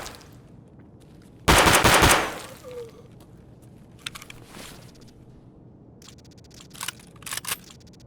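Gunfire in the shooter game Escape From Tarkov: a loud, rapid burst of automatic shots, then quieter scattered clicks and a few short, sharp bursts near the end, with no voices.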